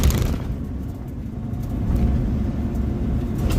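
A semi-truck rolls past on a downtown Cincinnati road, its deep steady rumble heard close from inside a moving car, swelling slightly toward the end, with no talking.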